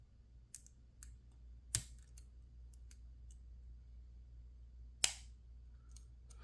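Lock pins click quietly as a lock is picked, a few sparse, sharp ticks spread apart over a low steady hum, with two clicks standing out more clearly than the others.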